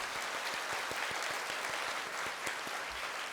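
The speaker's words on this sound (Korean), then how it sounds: "우리 컴백한 찬양대를 위해서 박수 한번." Applause from a church congregation for its returning choir at a Sunday worship service, steady dense clapping that fills the whole stretch at moderate, fairly distant level, with no voices over it.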